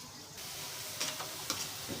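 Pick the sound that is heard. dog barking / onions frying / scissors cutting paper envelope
onions frying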